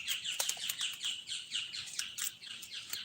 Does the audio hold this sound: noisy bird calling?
yes